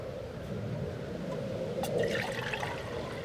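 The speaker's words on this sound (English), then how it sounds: "Just got some old pond water in here." Old pond water poured into a metal canteen cup outdoors, a close, steady gurgling splash with a brief brighter trickle partway through.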